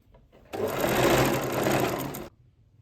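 A sewing machine runs steadily for nearly two seconds while stitching pleated fabric, a dense close whirring that starts and stops abruptly, with no talk over it.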